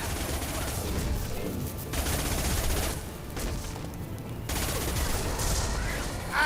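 Sustained gunfire from the video game Mass Effect 2, loud and dense with overlapping automatic bursts and impacts during combat, heard alone without talk.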